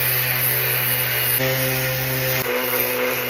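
A loud, continuous whir of a power sander working close by on cosplay armor outdoors, its steady buzz shifting pitch a couple of times with no talking.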